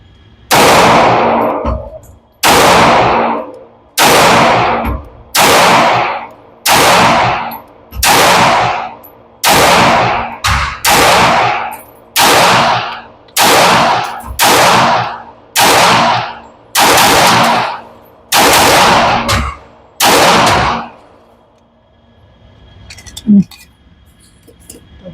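A 2011 or 1911 handgun fires rapid double taps at a shooting range: about a dozen loud, sharp, close reports, several in tight pairs, evenly spaced over twenty seconds, then a quiet tail with a faint clink.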